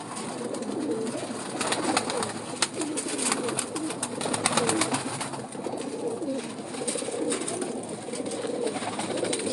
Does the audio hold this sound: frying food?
no